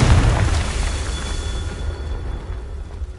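A Confringo spell blast in the video game Hogwarts Legacy: a loud low boom at the start that rolls off into a fading rumble, with no talking.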